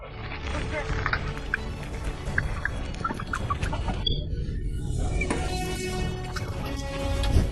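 Chickens cluck and squawk excitedly, close by and nearly nonstop, amid busy scuffling noise as they mob and attack a rattlesnake.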